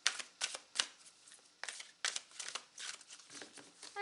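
Large oracle cards being shuffled by hand in a quiet room, a run of crisp riffling and slapping bursts in uneven clusters, close and fairly soft, with no one talking.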